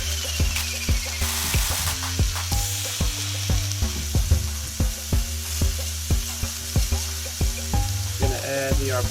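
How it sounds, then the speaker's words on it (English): Arborio rice is tossed in a hot pan for mushroom risotto, giving a steady sizzle broken by repeated sharp scraping and clicking of a utensil against the pan, close and fairly loud. "Add the arboreal rice to the pan and just kind of toss it around, get it all mixed up."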